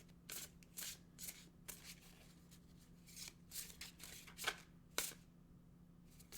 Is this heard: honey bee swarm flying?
no